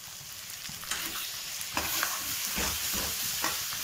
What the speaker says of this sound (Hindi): ये मसाला डाल दिया गया, अब इसे हल्का सा स्टर किया जाएगा